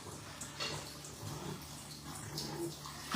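Water running and splashing inside a bathroom while dogs are bathed, a soft continuous flow with faint splashes, fairly quiet and steady throughout.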